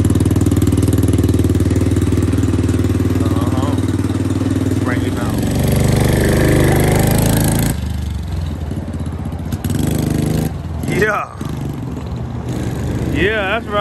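A 125cc ATV engine with a freshly swapped carburetor runs steadily and loudly up close for several seconds, then drops to a rougher, quieter idle while a person talks over it.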